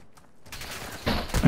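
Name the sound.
gunfire in Call of Duty: Modern Warfare II (video game)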